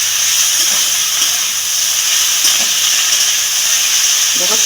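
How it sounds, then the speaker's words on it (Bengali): Vegetables and greens frying in a pan, a constant loud hiss and sizzle throughout, with a few soft knocks of stirring near the start and end. "নাড়াচাড়া করি।"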